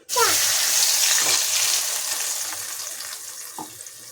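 Liquid poured into a hot pan with curry leaves and crushed garlic as a baby's night food is cooked, giving a loud rushing sizzle at the start that slowly fades, with a faint clink near the end.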